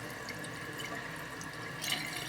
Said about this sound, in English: So I turned on the water.